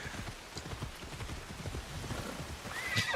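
A horse's hooves beat in a quick, steady galloping rhythm in the video game Assassin's Creed Shadows, ending with a high whinny.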